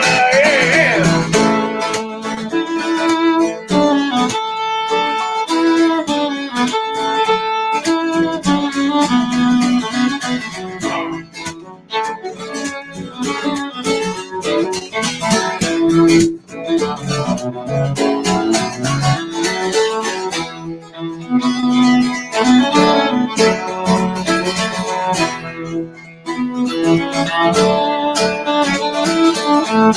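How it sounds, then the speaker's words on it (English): Cello played live at a small in-house concert, a continuous melodic line with sustained bowed tones and rich harmonics running the whole stretch, steady and fairly loud, with no talking over it. "solo cello of love"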